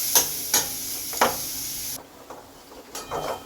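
A spoon scrapes and stirs gourd pulp with turmeric and sugar in a frying pan, giving a few sharp clacks over a steady sizzle that drops to quieter, rougher scraping partway through.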